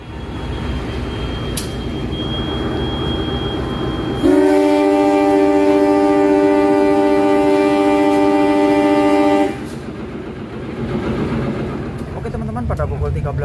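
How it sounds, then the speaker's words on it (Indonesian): The Penataran commuter train departs Blitar station with a long, loud, steady horn blast over rumbling rail noise and station ambience, then the horn cuts off and the train keeps rolling. "Pada pukul 13:40 kereta komuter lain Penataran ya, baru diberangkatkan dari stasiun Blitar"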